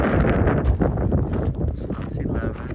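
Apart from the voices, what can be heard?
strong wind on a winter hike at Guadalupe Peak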